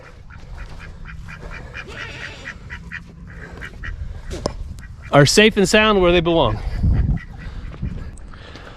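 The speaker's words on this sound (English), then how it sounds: "But now the ducks" Ducks kept in an enclosure burst into loud, close quacking for about two seconds, loud harsh calls crowding together, after soft speech and light background noise, then settling back under a voice.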